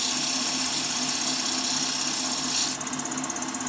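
Steady high-pitched whir of a spinning lathe with abrasive sanding hiss as a wooden Christmas angel ornament is rounded, continuous and close, shifting tone briefly near the end.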